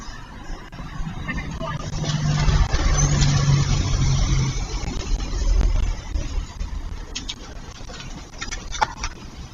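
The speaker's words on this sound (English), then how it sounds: "That's a car." A car passes on a street picked up by a live city camera in a country at war, a low engine rumble swelling in the middle and fading, with faint background noise and a person talking over it.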